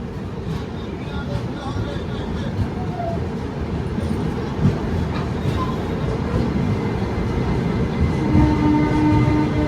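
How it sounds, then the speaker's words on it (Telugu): The Guntur Tirupati Express, with its ICF coaches, stands at platform 2 of a station, a steady low rumble and hum of the train that continues throughout with faint clanks over it. "గుంటూరు తిరుపతి ఎక్స్ప్రెస్ అండి ప్లాట్ఫామ్ నెంబర్ 2లో"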